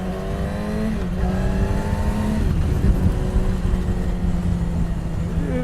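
A 2018 Yamaha R6 sport motorcycle's engine drones loudly and steadily while being ridden. Its pitch climbs and drops through revs and shifts under constant wind rush.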